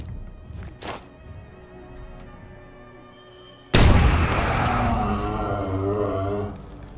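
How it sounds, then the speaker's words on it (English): Fragmentation grenade in Fallout 76 set off in a bog: a faint thump early on, then a sudden loud blast about halfway through, rumbling and fading over several seconds with creature cries mixed in. "let me make sure I got my fragmentation grenades selected. Okay, and let's start throwing."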